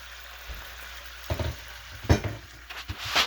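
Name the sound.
chicken pieces sizzling in a skillet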